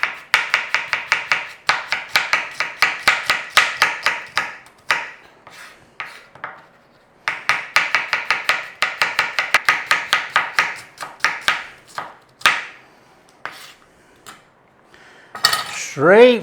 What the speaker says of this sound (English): We want some slices of onion. Thin slices, because this has got to cook in the oven.